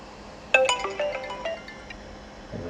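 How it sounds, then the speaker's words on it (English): A mobile phone rings with a loud melodic ringtone, triggered by a call from a personal emergency alert button for connected care, its bright chiming tones clear and close for about a second before a voice begins. "You'll hear my phone ring."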